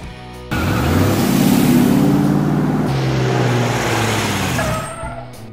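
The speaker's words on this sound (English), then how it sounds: "Monster Pickup Truck." Monster pickup truck engine rumbles loud and near, a deep growl surging and settling in steady waves with a hiss like an air brake, heard alone without voices.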